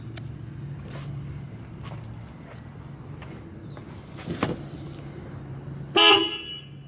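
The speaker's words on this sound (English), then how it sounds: "Check out these horns I put in. They are loud." Loud aftermarket car horns on their own relay, individually grounded, give a single sharp blast near the end, preceded by quiet garage ambience and a few faint knocks.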